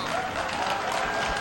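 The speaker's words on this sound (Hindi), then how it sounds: "तालियां बजाएं" Brief burst of dense audience applause at a Hindi quiz show, a continuous wash of clapping at fairly close range.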